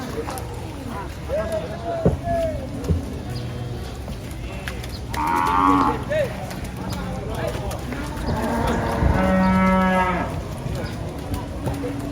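Cattle moo loudly several times, long drawn-out calls from nearby large cattle gathered in a crowd, over a busy outdoor background with people talking.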